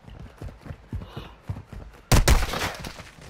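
Gunfire in Call of Duty: Modern Warfare II: a loud burst of close shots erupts partway through, following a run of lighter rhythmic footstep-like thumps, with no talk.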